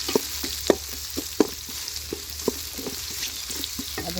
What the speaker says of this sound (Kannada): ಈರುಳ್ಳಿ ಸ್ವಲ್ಪ ಚೆನ್ನಾಗಿ ಫ್ರೈ ಮಾಡಿಕೊಂಡು